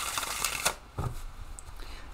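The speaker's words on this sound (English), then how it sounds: "I'll give these a good shuffle." Quick riffling bursts of a tarot deck being shuffled, a couple of crisp flutters close by, then quiet handling.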